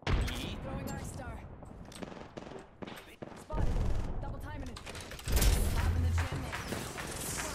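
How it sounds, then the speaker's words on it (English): Grenade blasts and rapid gunfire in the game Apex Legends, loud bursts of fire with heavy booming impacts mid-clip, mixed with game effects and a player talking over them. "Oh, that grenade hit me right on."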